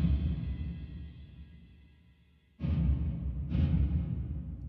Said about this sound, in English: There's so much low frequency that keeps resonating after the tom hit.